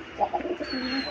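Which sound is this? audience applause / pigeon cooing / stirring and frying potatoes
pigeon cooing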